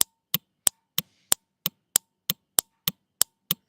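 An electromagnetic relay switch clicks sharply and steadily, about three crisp snaps per second, close and alone over a faint mains hum.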